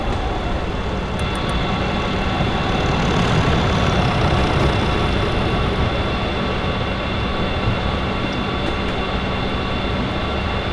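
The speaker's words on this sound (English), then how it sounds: "Diesel on its way down." A diesel train passes on the Woodhead Line, its engine producing a steady, loud rumble and drone with rolling wheel noise that holds close throughout.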